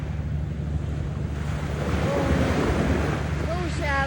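Surf washing onto a pebble beach, steady and fairly close, with wind buffeting the microphone and faint voices and whistle-like tones toward the end.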